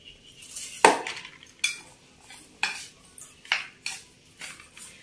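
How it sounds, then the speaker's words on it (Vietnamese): A utensil stirs a seasoning mixture of MSG and seasoning granules into snakeskin gourami fish in a bowl, each stroke scraping and clinking against the dish in a steady roughly once-per-second rhythm, close and alone. "Rồi mình trộn đều lên."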